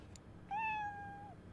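A single drawn-out cat meow from the video game Internet Cafe Simulator 2, clear and fairly close, rising then holding steady before trailing off, heard alone over a low background hum.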